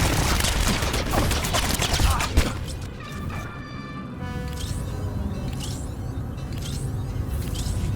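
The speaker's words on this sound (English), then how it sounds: "Open fire, men!" Blaster gunfire from soldiers in the Star Wars: The Old Republic video game, a dense, loud rattling barrage for about two and a half seconds, then scattered whooshing and whining effects under steady background noise.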